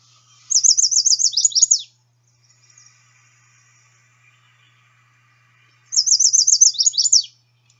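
A chestnut-sided warbler sings twice, each song a quick series of bright, near, clear whistled notes with a sharp downslurred ending, separated by several seconds of quiet.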